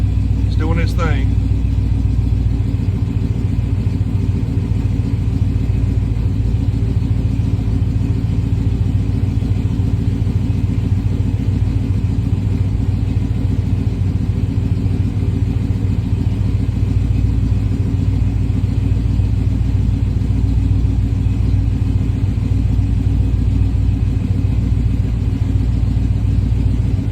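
Car engine fitted with an ACES Killshot EFI and Black Jack distributor, starting and then idling with a steady, loud low rumble throughout, with a brief whine near the start.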